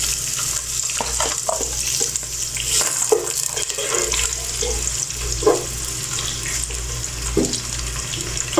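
Onions frying in ghee and oil for chicken nihari, a steady broadband sizzle with occasional stirring clinks and scrapes, close and fairly loud, with no talking.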